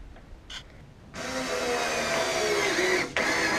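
Power screwdriver driving screws into a camper's flooring, a steady loud whirring grind that holds for a couple of seconds with a brief interruption near the end.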